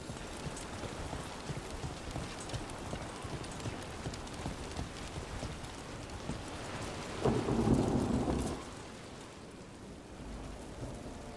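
Steady rain falls throughout in the video game Dragon Age: The Veilguard, with a low rumble of thunder swelling midway, alongside faint rhythmic hoof-like clopping in the background.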